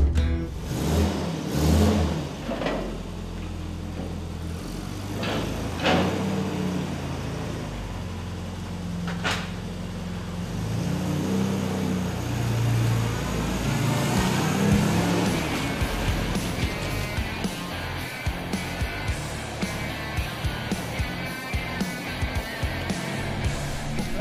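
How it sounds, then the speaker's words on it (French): A classic Mini being driven on the road, its mid-pitched engine running steadily, with revving swells and some rattles and knocks from the cabin over roughly twenty seconds, heard close and alone without talk. "En soi, la voiture roule très bien."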